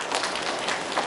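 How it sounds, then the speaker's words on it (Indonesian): Applause at a university graduation ceremony for Universitas Mayjen Sungkono in Mojokerto: a dense, steady wash of many hands clapping at once, fairly loud and lasting about a second, with no voices over it. "Tepuk tangan."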